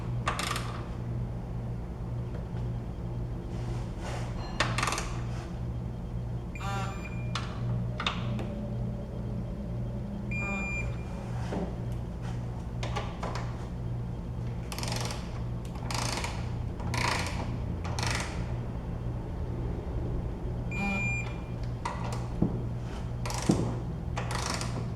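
BMW E46 control arm bolts being snugged with a ratchet and torque wrench, producing scattered clicking and metallic ratcheting bursts over a steady low background hum, close and fairly loud.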